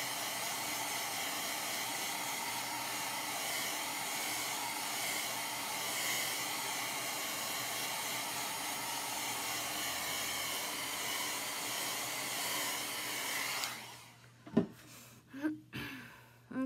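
Steady, even whoosh of a hair dryer blowing on chalk paste over a craft stencil, running close and unbroken for most of the clip, then cutting off into a few soft handling noises.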